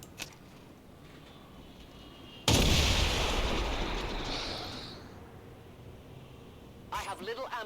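A single loud gunshot or blast from the turn-based strategy video game XCOM 2 hits suddenly and decays over a couple of seconds, followed by a brief burst of speech near the end.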